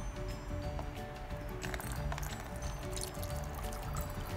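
Sumac-steeped water poured through a fine kitchen sieve, giving a steady liquid pour and trickle with small drips that runs continuously at close range, with no talk.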